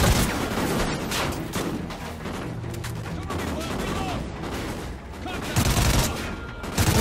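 Gunfire in the Call of Duty: Ghosts campaign, dense loud bursts of shots and booms layered continuously over a busy battle din, with voices talking underneath.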